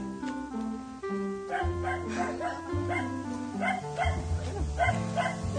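A dog barks repeatedly in short bursts at a moderate distance during a morning walk with a husky, with voices and other tonal sounds mixed in.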